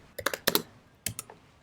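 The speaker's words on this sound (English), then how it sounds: "So we'll just type in doc type" Quick, light keystrokes on a computer keyboard while HTML code is typed, coming in a few short clusters of taps with brief pauses between them.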